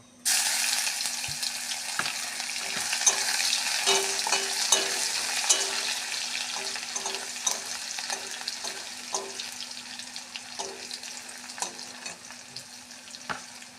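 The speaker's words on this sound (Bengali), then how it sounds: "রসুনটা লাল লাল করে ভাজা হয়ে এসেছে" Crushed garlic fries in oil in a pan, a steady broadband sizzle running throughout with occasional soft clicks of a spoon stirring, no voices.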